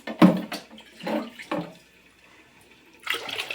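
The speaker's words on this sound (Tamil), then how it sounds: "இப்போ தண்ணி சேர்த்துக்கலாம்" Water is poured into a pot of lentils for cooking a Sivakasi-style dish, in a few short splashy bursts near the start, then a quiet pause and a final gush of pouring.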